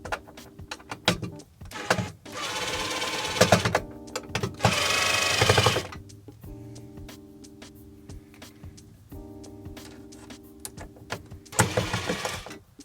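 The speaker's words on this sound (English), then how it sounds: "we can either use a standard Phillips screwdriver, or as I like to use, my impact driver" Impact driver unscrewing the power supply and PCI plate screws of a Mac Pro A1289: several loud whirring, rattling bursts separated by pauses, close up, with no talk.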